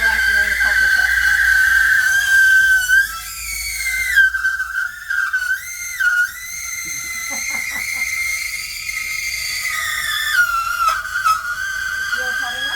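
A milk frother's steam wand on a new home coffee machine gives a loud, continuous shrill whistle that wavers and sputters in pitch as the milk froths, steady throughout with brief dips.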